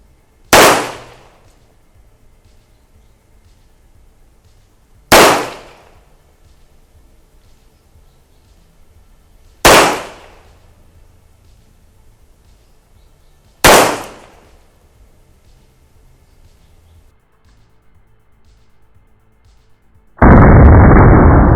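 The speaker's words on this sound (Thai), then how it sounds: "ตอนนี้ก็มาลองยิงปืนดู" Four loud, sharp gunshots from a Taurus PT99 AF pistol ring out alone, evenly spaced about five seconds apart, followed by a short burst of hiss at the end.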